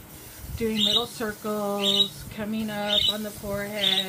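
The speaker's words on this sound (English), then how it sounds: "I hear birds. I'm like, no, those are my parakeets." Pet parakeets squawking and chirping in a home, repeated high calls scattered across the clip under someone talking steadily close by.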